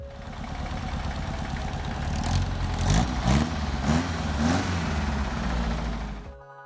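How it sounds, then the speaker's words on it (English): A Porsche 912 engine, running out of the car, idles roughly and steadily, then blips of revving rise and fall in the middle before it settles and cuts off. "I shot this footage of the engine out and running a few weeks ago"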